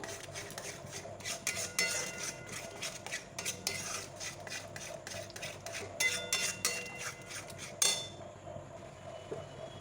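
A spoon scrapes and stirs thick palm fruit pulp in a metal pan for taal kheer, with rhythmic close scraping strokes and light clinks, then a sharp knock before a quieter tail. No speech.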